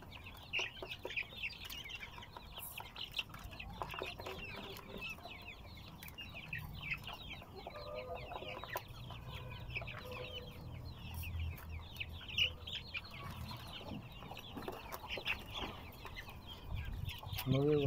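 Young chickens, about five weeks old, cluck and peep in a windy coop, a busy chorus of short calls layered over gusty background noise, with a faint voice now and then.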